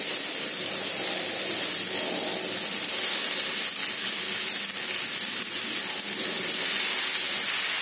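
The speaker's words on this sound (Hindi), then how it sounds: "अब कटी हुई पालक को डाल देती हूँ।" Chopped spinach hits a hot kadhai with a loud, continuous hissing sizzle that stays dense and close from start to finish, with no talking.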